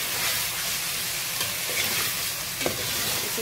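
Chicken for chicken molokiya sautéing in a pan, a steady close sizzle with faint stirring scrapes and a couple of brief clatters, no voices.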